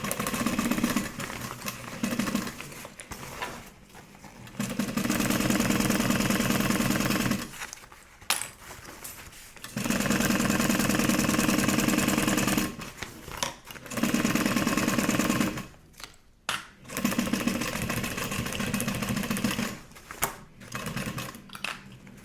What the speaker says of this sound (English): I'm back stitching over these because we're going to trim down our seam allowance